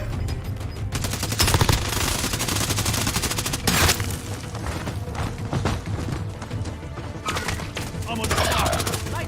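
Enemy gunfire in a shooter video game crackles in dense, rapid bursts of automatic fire with a few heavier booms, loud and continuous throughout.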